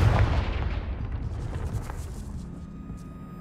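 A Confringo fire spell from the video game Hogwarts Legacy detonates in a single heavy, booming blast. The deep impact rumbles and decays over a few seconds into a fading roar.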